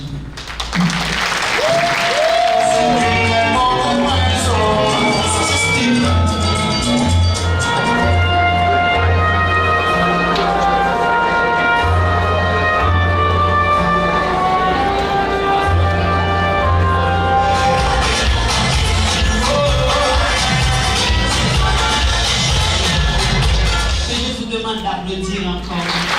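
An audience at Haiti Fashion Week applauds loudly and at length, mixed with music and a speaking voice, and the clapping swells again near the end.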